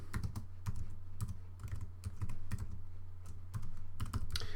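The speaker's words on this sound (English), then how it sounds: "So if I type here" Fingers tap out a burst of keystrokes on a computer keyboard, crisp and close, with short pauses between clusters of clicks over a low steady hum.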